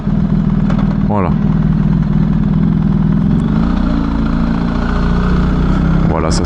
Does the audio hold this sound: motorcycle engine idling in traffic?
yes